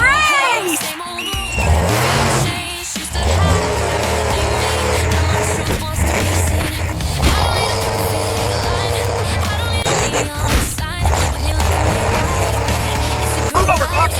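Animated motorbike race with roaring engines, a loud continuous revving drone with pitch sweeps and tire squeals throughout, backed by music.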